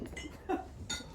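Glasses clink together during a toast at a speech, with a few short bright chinks close by over a low murmuring room.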